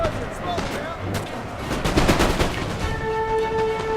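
Chasseurs à Cheval cavalry fire in Napoleon: Total War, a dense, steady crackle of musket and carbine volleys across a battlefield. It is moderately loud and continuous, with clustered shots and a faint musical tone near the end.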